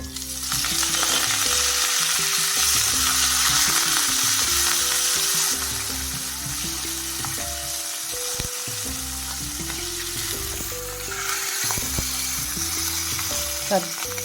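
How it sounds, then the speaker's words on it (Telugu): Dried red chillies and curry leaves hit hot oil with cumin already browned, raising a loud continuous sizzle that eases slightly after a few seconds, while someone talks over it throughout. "ఇప్పుడు ఎండుమిర్చి కరివేపాకు వేస్తుంది"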